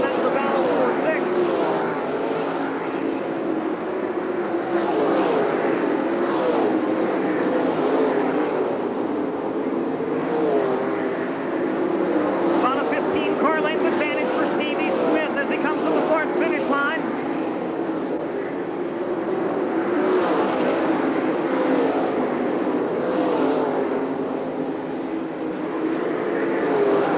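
1997 World of Outlaws sprint cars racing around the high-banked half-mile dirt oval at Eldora Speedway, engines roaring and swelling as cars pass, heard from a distance under continuous race commentary.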